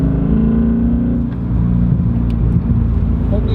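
A BMW M5 E39 engine runs with a loud, steady low rumble that holds through the clip, swelling slightly, with a faint voice underneath.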